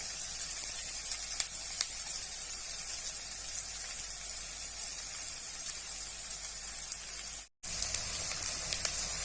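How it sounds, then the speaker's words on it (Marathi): Chopped onion and capsicum sizzling in two to three spoons of hot oil for veg fried rice, a dense, continuous crackling hiss that stays loud and steady, broken by one brief dropout near the end. "आता आपण 2 ते 3 चमचे तेल घेतलेलं आहे, त्याच्यामध्ये आपण कांदा टाकणार आहोत"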